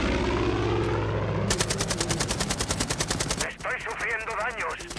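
Small plane approaching during gunfire in Far Cry 5: a rapid burst of machine-gun fire gives way to a buzzing propeller engine drone that rises and wavers, with a voice briefly over it.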